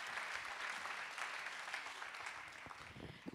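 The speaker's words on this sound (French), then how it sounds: "Applaudir très fort, en effet." An audience at an awards ceremony applauds five honoured professors, giving a continuous, somewhat distant wash of clapping at moderate level throughout, with a few nearer claps toward the end.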